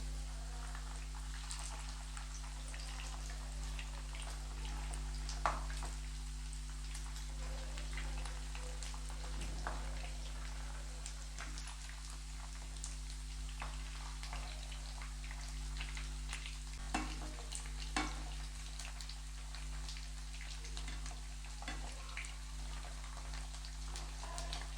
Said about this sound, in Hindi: इनको मीडियम फ्लेम पे ही फ्राई करेंगे।